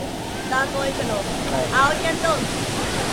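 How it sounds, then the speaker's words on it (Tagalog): A waterfall in Karanglan, Nueva Ecija rushes with a loud, steady roar of falling water, and faint voices are heard over it. "Lakas ng falls guys oh."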